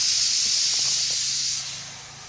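A kitchen pressure cooker vents steam in a loud, steady, close hiss that fades somewhat toward the end, with faint clatter beneath and no talk.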